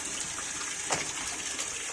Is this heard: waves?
yes